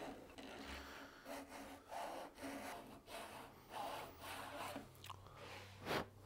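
A Japanese fret slotting saw cuts through wood in a miter box with steady rhythmic rasping strokes, about one every second, close and fairly quiet with no talking.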